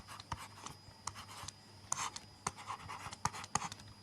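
Chalk or marker writing on a classroom board: irregular scratchy strokes and taps over about four seconds, close and fairly quiet, with no talking.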